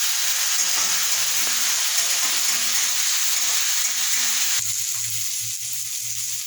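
Cumin spice paste sizzling and frying in oil in a pan, a steady close hiss with low stirring scrapes, continuous throughout with no talking.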